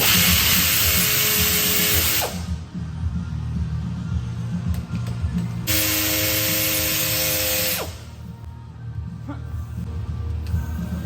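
A Dremel rotary tool cuts through a plastic window panel for a Nissan Xterra, a loud steady high-pitched whine running in two long bursts with brief drops in between, close up.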